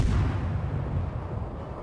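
A single heavy ship's gun fires in a naval video game, with a deep booming blast that opens loudly and rumbles off over about two seconds.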